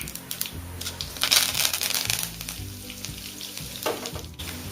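Curry leaves and mustard seeds sizzle loudly in hot oil as a tempering for cabbage sambharo, a steady frying hiss with crackles that swells in the middle and tapers off, with no voice over it.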